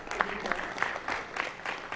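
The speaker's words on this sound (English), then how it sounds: "Can we have a huge round of applause for each one of you?" Applause from the audience at the grand launch of the Corporate Connections Hyderabad chapter, a steady moderate wash of clapping lasting throughout with faint voices mixed in.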